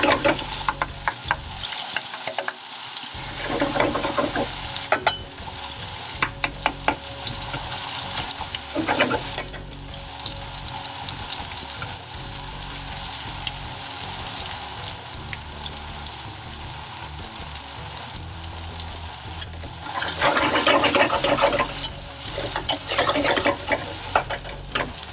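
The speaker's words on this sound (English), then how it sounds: "the first thing we're going to do is fry the onion" Onion softening in hot oil, a continuous close sizzle with repeated scraping and clicking of a spoon stirring the pan, steady over a long stretch with louder bursts near the end.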